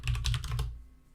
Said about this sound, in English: So if we typed in kubectl get deployment